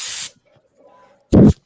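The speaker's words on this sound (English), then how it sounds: "My dust cleaner." A can of compressed-air dust cleaner gives two short, loud hissing sprays, the first about a quarter second long and the second a similar brief blast after a pause, close to the listener.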